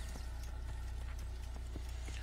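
A horse ridden in Assassin's Creed clip-clops along in a steady, quick hoof rhythm, fairly quiet over a constant low rumble.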